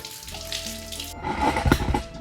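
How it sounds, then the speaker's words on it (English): Tap water runs steadily into a sink while lemons are rinsed of vinegar, a close, bright splashing that grows fuller and louder partway through. "Let's rinse off the vinegar from these lemons."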